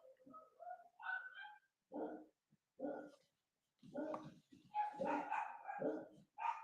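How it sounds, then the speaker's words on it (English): Dogs bark and yip in short bursts. The barks come in a lively, uneven rhythm, close and moderately loud. "I don't know why my dogs are going nuts."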